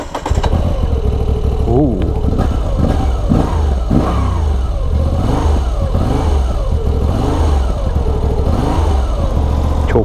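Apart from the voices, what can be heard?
Moto Guzzi V85 TT motorcycle engine starting and revving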